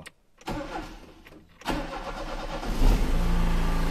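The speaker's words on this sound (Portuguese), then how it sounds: "eu vou ligar o carro aqui" A car engine cranks over briefly, catches and settles into a steady idle, heard close up with no talking.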